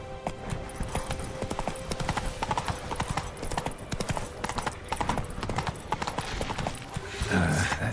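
A horse gallops in The Witcher 3: Wild Hunt, with quick rhythmic hoofbeats pounding steadily and fairly loud throughout, and a brief vocal sound near the end.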